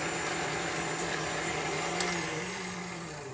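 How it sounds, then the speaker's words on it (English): An electric mixer runs on low speed blending sausage spices before ground pork is added, a steady whirring motor hum that stays even throughout, close and unbroken, with no speech. "So just on a low speed, we're just going to mix those up a little bit."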